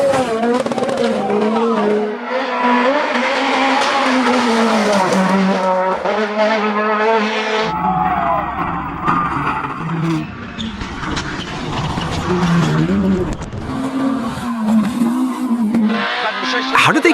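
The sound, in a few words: rally car engine racing on gravel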